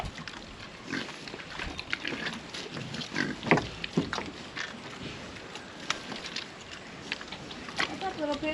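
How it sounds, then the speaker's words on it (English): A pig grunts and snuffles repeatedly at close range, with background noise throughout. "What's up, little pig?"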